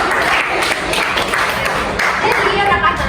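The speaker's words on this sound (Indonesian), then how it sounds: "tepuk tangan buat semuanya" Classroom applause from a group of students during a microteaching lesson, steady dense clapping lasting the whole stretch with crowd murmur mixed in.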